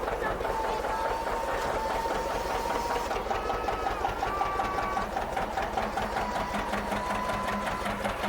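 A John Deere hay elevator loading a hay loft runs with a steady, fast mechanical clatter and hum that holds constant throughout. Faint voices may sit underneath.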